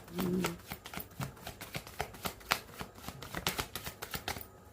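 Tarot cards being shuffled by hand, a close series of quick riffling flicks and soft card slaps repeating in an uneven rhythm throughout, with a brief hum of voice at the start.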